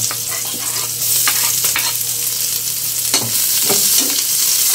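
Garlic and onion sauté in a hot pan with a loud, dense sizzle and a low steady hum beneath, punctuated by brief scraping stirs, close-up with no talking.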